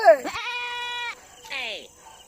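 A goat bleats twice up close, a long wavering bleat followed by a shorter one after a brief pause.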